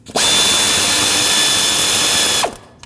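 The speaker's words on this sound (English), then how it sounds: "So pull that 10mm mounting nut off." Power tool, likely a ratchet or drill, spinning off a 10mm mounting nut on the thermostat housing of a Lexus IS250 during water pump work: one loud, steady high whine lasting about two seconds, close up, with no speech.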